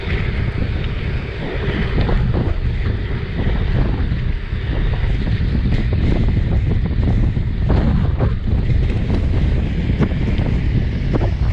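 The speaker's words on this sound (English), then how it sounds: "Apologies if you can't hear me half of the time because it's pretty windy up here today" Strong wind buffets a hilltop, roaring steadily and rumbling hard against the microphone in gusts throughout, loud and unbroken, with no talking.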